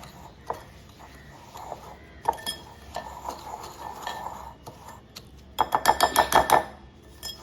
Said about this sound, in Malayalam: പഞ്ചസാര ഇട്ട് നല്ലവണ്ണം ഇളക്കി കൊടുക്കാം.